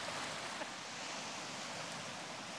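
Water rushes back into the riverbed of a theme park ride at Bellewaerde, a broad continuous roar of flowing water, steady and fairly loud throughout with no talking.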